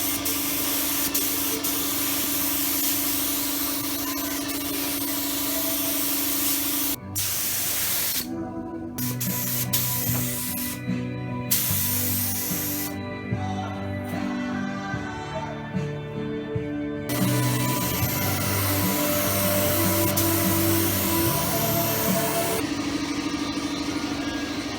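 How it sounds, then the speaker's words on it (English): Black primer guide coat hissing from a spray gun onto a car roof panel during bodywork restoration, bursts of spraying with short pauses in between, close and steady. "we need to get 2 coats of good primer on there"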